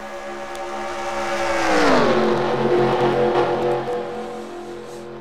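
Simulated ARCA Racing Series stock cars roar past in a pack at the International Motorsports Hall of Fame 250, the engine whine swelling and then dropping in pitch as they pass close, sustained and loud with no talking.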